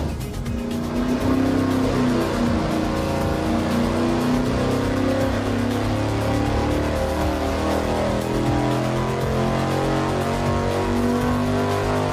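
A V8 engine with a 268/278 camshaft and nitrous injection runs a dyno test pull, roaring loud and continuous as it climbs steadily in revs for about twelve seconds, with no talk.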